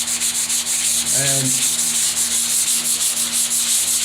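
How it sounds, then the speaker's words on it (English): Continuous rhythmic rubbing of a sanding block across a repaired crack in a textured wall, steady back-and-forth strokes over a constant hum, with a brief word spoken. "take your sanding block and do the center"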